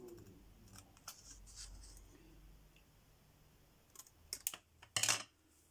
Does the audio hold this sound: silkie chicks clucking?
no